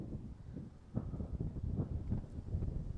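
Wind blowing across an open golf course, a low rumbling buffet against the microphone with gusting swells, steady and fairly loud, with no talking.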